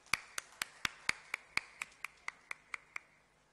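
Applause for panelists at a literature festival: about a dozen sharp, evenly spaced claps at a steady quick rhythm, faint and somewhat distant, with no other sound.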